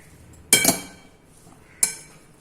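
Two bright clinks of a spoon striking a bowl while a beetroot, carrot and peanut salad with lemon is mixed, the first a quick double knock and the second a single tap a second later, close and alone.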